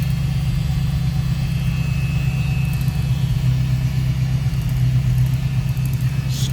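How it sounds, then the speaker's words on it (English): A stock 302 V8 in a 1970 Ford Mustang coupe, freshly fitted with a new carburetor, idles steadily with a smooth, continuous low rumble heard close up, with no talk over it. "Pretty smooth running 302."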